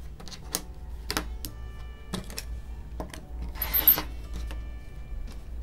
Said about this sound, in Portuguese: aqui também eu recorto esse excesso de tecidos